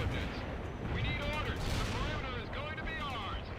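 A heavy artillery barrage in World in Conflict rumbles and crackles continuously, with dense booming impacts and whistling shells layered over each other and voices talking through the din.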